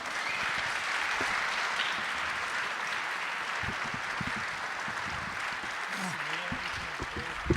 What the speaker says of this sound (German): Bitte einen donnernden Applaus für Caroline und Hermann.